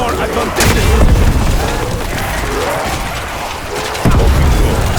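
Loud artillery-like blasts from a four-player hardcore video game round strike at the start and again near the end, with gunfire-like crackle and continuous battle noise between.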